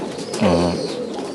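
A large Tomprang high-flying pigeon coos once, close and fairly loud, a short rolling call set against a steady low background hum.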